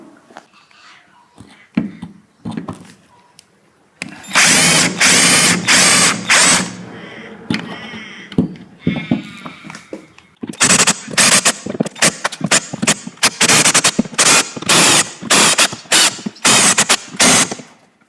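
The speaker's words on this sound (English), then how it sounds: "So now I've drilled through all of the rivets and it should just come off." A power drill bores through aluminium rivets on a Classic Mini van, loud repeated bursts of whining, rattling drilling separated by short pauses, with quieter handling sounds at the start.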